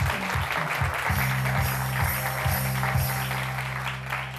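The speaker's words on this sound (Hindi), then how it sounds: "तालियां।" Studio audience applause at a weekend TV talk show, a steady wash of clapping under a low, repeating musical tone, fairly close and even throughout.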